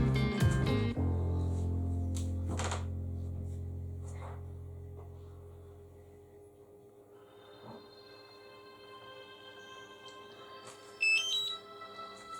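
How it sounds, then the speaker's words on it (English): A DJI Mavic Mini drone sounds a steady high-pitched tone during a firmware update that fades out. A faint hum follows, then a short burst of rising beeps near the end. "We're beeping."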